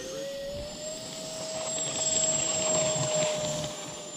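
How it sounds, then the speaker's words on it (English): Freewing AL37 RC jet taking off from a grass strip, its electric ducted fan giving a steady high whine that swells and roars louder midway through, with no talking. "Taking off. All right, tailwind takeoff."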